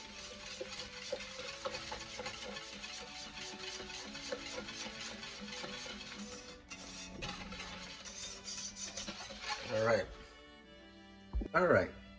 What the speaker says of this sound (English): 2½ cups of whole milk. So get that right in there. And I'm going to whisk that right in there